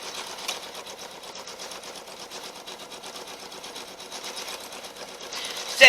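A sewing machine stitches a quilt table runner, a fast continuous rattling whir close by at moderate volume, ending in a brief louder clunk.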